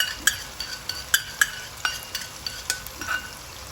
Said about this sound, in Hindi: अब हम इसको मसाले में मिला के अच्छा सा भून रहे हैं।